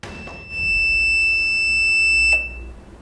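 A quiz-show buzzer sounds as a steady, sustained electronic tone for about two seconds, loud and close, starting and ending cleanly with no voices over it.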